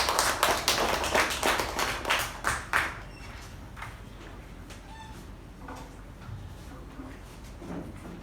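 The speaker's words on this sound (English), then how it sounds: "With a huge round of applause" A small group at a Toastmasters meeting applauds with quick, close clapping for a few seconds, then it fades into quieter scattered taps and room noise.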